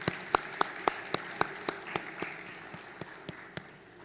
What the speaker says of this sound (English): One more time, a round of applause.